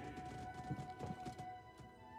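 In the Star Wars Jedi: Fallen Order video game, a horse's hooves clip-clop in a quick, steady galloping rhythm, faint and low in level and not overlaid by talk.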